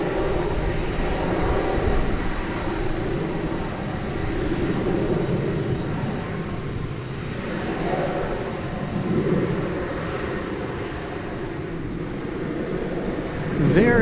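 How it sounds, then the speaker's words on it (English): Airbus A320-200 airliner arriving at DFW Airport, a broad sustained engine roar that swells and fades gently, fairly loud and continuous, with a brief sharp whistling sweep near the end. "There you saw American Flight 674 arriving from Harrisburg, Pennsylvania, an Airbus A320-200"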